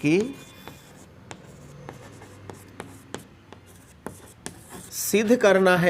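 Writing on a classroom board during a geometry lesson, a series of short, sharp taps and strokes spaced irregularly over several seconds, with a teacher's voice coming in near the end.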